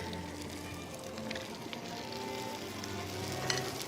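Whole head-on, shell-on prawns sizzling in a pan with garlic and chili, giving a steady close frying hiss with occasional crackles and stirring sounds, with no talking.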